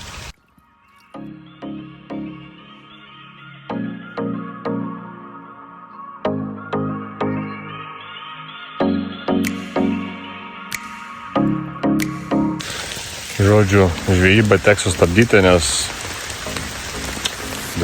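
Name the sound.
heavy rain during a squall while fishing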